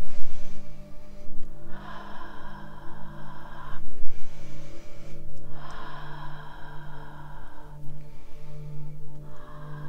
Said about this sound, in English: let's take a couple deep grounding breaths in, breathing in through the nose and out through the mouth